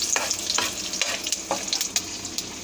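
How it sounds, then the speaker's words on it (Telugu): Cumin, mustard seeds and dried red chillies fry in hot oil for a Telugu country-egg curry, a steady close sizzle with sharp popping crackles scattered throughout, no voices. "ఇప్పుడు జీలకర్ర, ఆవాలు, ఎండుమిర్చి అన్నీ వేసేస్తున్నాను. వేసి కొద్దిగంత వేగనివ్వాలి."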